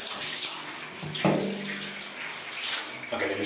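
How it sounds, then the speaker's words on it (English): A shower runs close by after a day of cycling on a multi-day bike tour, a steady broadband hiss of spraying water with small shifts as the flow hits the body or floor. "Okay, so I'm in the shower."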